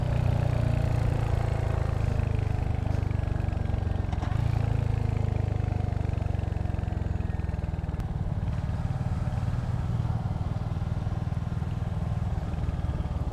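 A Royal Enfield Hunter 350 motorcycle engine runs steadily for the whole stretch, a loud, close, low rumble that swells slightly as the throttle opens on an open-road ride, with wind noise layered over it.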